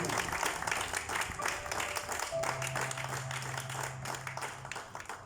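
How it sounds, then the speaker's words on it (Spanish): Church congregation giving a loud applause during a sermon, a dense wash of many clapping hands mixed with crowd voices, steady throughout, while a sustained tone, likely from a keyboard, rings underneath. "Démosle un fuerte aplauso al Señor, aleluya"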